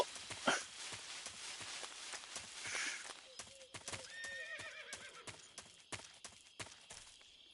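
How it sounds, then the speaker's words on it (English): A horse in Metal Gear Solid 3 gives a clear whinny over rhythmic clip-clopping hooves, all fairly quiet and game-generated. "Es un caballo"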